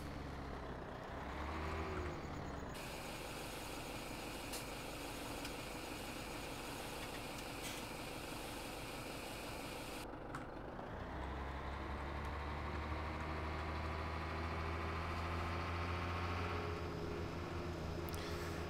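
Tractor engine in Farming Simulator 17 drones steadily throughout with a low rumble, loud and close, the pitch shifting slightly as it works, with no voices over it.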